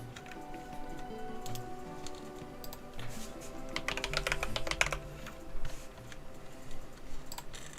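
Someone types on a computer keyboard during a Blender streaming session, producing quiet, irregular clusters of clicks and taps, with a denser burst in the middle, close but faint.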